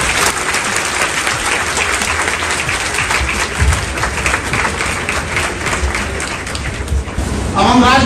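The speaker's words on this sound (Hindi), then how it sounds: "जोरदार तालियों के साथ" Loud, sustained applause from a large seated audience at an educational event in India, dense clapping filling the whole stretch without a break and swelling slightly near the end.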